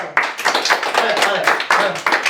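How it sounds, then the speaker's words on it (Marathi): A small group claps together at a family celebration of one million subscribers, the claps coming in quick uneven bursts with voices talking over them. "ओके टाळ्या, टाळ्या"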